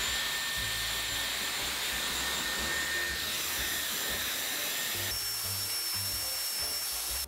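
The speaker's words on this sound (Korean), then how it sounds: "저는 이 상태에서 한번 머리를 말려볼게요" A Dyson Airwrap hair styler blows air to dry hair, giving a loud, steady high-pitched whir with rushing airflow that holds for several seconds and shifts tone partway through, with no talking.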